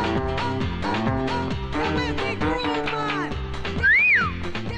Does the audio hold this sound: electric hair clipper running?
no